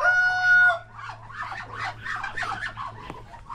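A rooster crows loudly and close by for under a second, then a flock of farmyard chickens keeps up a steady run of clucking and chatter over a low background hum.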